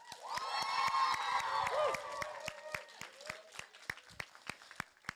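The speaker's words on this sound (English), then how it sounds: "can we have a huge round of applause for Mr. Wolverton." Enthusiastic audience applause and cheering at a school Christmas concert, with children's shouts over dense clapping that thins into scattered individual claps toward the end.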